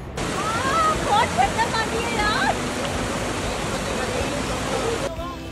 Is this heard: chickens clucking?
no